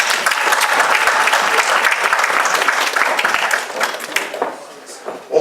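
An audience at an Ivorian youth association gathering in Lyon applauds the organizing association, a loud, dense ovation that thins toward the end, with a voice faintly underneath.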